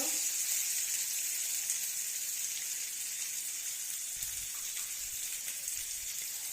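Hot oil under frying pangas fish sizzles and crackles steadily as water is poured in, a close, continuous hiss with a few soft low thumps near the end.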